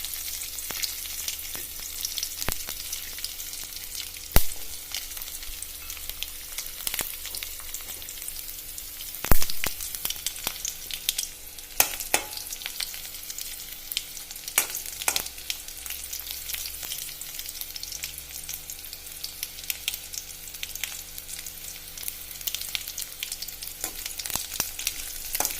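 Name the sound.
garlic frying in a pan for vanpayar thoran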